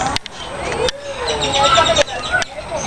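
A cockatiel perched on a person at a zoo gives bright chirps and whistles, rising and falling calls close by, broken by a few sharp clicks and rustles.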